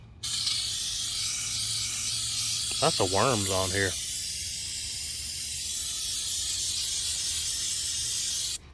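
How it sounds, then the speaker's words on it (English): A steady, loud hiss of Flex Seal aerosol sealant sprayed onto a pond runs almost continuously, stopping abruptly at the end, with a brief spoken remark partway through. "just spray until this can's done."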